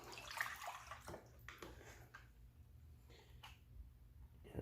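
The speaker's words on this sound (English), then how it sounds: "Need some water in this." Water poured into a cheap sluice box, a steady splashing wash heard up close, with a few sharper sloshes and drips breaking through the flow.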